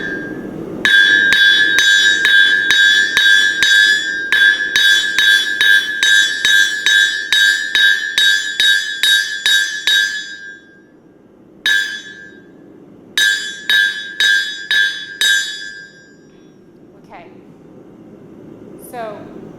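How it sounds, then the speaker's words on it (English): A blacksmith strikes a metal bar held flat on an anvil during a forging lesson, a fast run of bright ringing hammer blows in steady bursts with short pauses, close and loud, trailing off into a few isolated strikes. "I'm just going to keep hammering on that spot."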